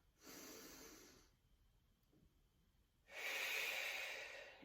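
Two deep, audible breaths during a beginner Pilates exercise, a long inhale followed after a quiet pause by a stronger, airy exhale, close to the microphone and without speech.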